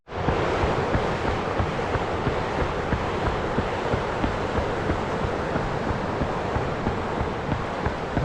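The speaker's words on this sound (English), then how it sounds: "So as I'm passing the weir here on the River Severn" Water pours over a weir on the River Severn at an early morning riverside, making a loud, continuous broadband roar. The sound is steady and close, with no voices over it.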